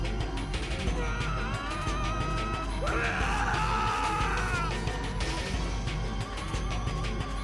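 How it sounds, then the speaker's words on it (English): In the Steins;Gate 0 visual novel, a woman's bestial roar overlaps a man's terrified scream, loud strained wailing tones rising in the middle over a harsh, noisy background. "her bestial roar and the man's terrified scream overlapped in a horrible cacophony"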